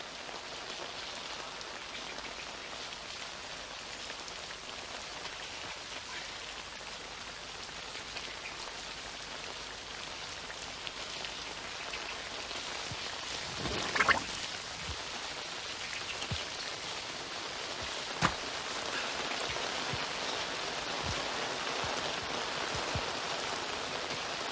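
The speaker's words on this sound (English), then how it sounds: "raining again." Steady rain falls throughout, a constant hiss of drops hitting surfaces, with a couple of brief louder patters partway through.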